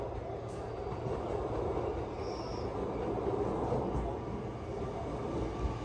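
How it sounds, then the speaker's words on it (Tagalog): A train at JR Nate station in Wakayama, Japan, giving a steady continuous rumble close by with a brief high squeal partway through, and no talk over it. "Yan yung train."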